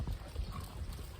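Horse hooves thudding in a steady clip-clop rhythm during show preparation for an English-style equitation horse, moderately close, with low muffled impacts and no talk over them.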